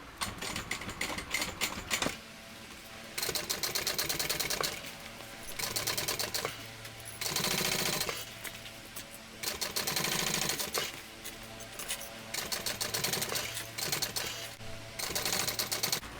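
A sewing machine stitches a seam on a convertible tote bag in steady, rapid bursts, starting and stopping repeatedly with short pauses between runs, close and fairly quiet, with no talking.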